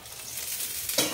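Dosa batter cooks in oil on a hot pan, giving a steady close sizzle that swells into a brighter hiss near the end of this short moment.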